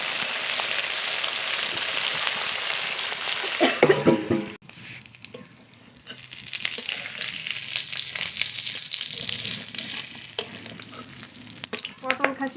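Fish sizzling and spitting in hot oil in a pan for a Bengali curry, a steady dense crackle close by, broken by a brief lid or stirring clatter near the middle and then frying on.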